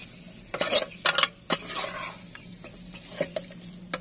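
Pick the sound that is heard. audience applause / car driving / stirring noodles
stirring noodles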